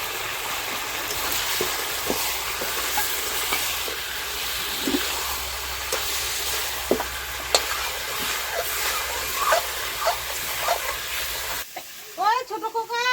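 Mutton being sautéed (kosha) with dry red chili powder in a pan, a steady close sizzle and hiss with scrapes and taps of a spoon stirring, ending with a brief different burst of sound.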